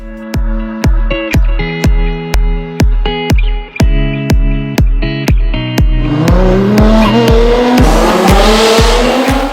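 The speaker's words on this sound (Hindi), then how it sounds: "नसान कंपनी की टॉप की स्पोर्ट्स कार GTR 2015 मॉडल है।" A 2015 Nissan GTR, Nissan's top sports car, heard as a loud rhythmic series of sharp, evenly spaced engine pulses that give way to a sustained rising roar with squealing tones, close and without talk.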